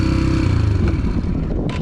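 A Yamaha TTR 125 trail motorcycle engine idles close by, a steady low chugging putter that stays loud and even, with a faint clatter near the end and no voices.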